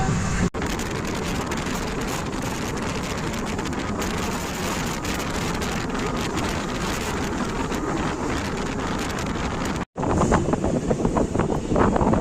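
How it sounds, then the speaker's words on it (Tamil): Strong gusting wind buffets the microphone at a train station, a loud continuous roar with a brief dropout near the end before the blasts resume. "ஒரு ஆளை உள்ள தள்ளுற அளவுக்கு செம்ம காத்து அடிச்சுட்டு இருக்கு."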